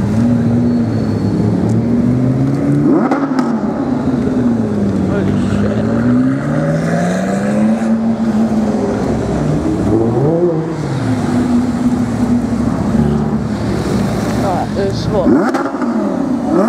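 A McLaren 650S sports car engine revs loudly at close range during a street rally in London, its pitch rising and falling over a steady drone, with people's voices audible throughout.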